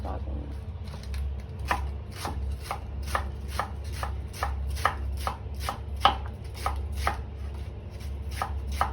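A knife chops salad ingredients on a cutting board in a home kitchen, a steady run of crisp, evenly spaced cuts close by, over a low background hum.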